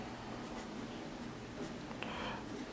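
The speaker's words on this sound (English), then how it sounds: "Put your signature on it, a signature that everyone will be able to see" A pen signs a playing card, a soft continuous scratching of the tip across the card surface, faint and close against a steady hiss.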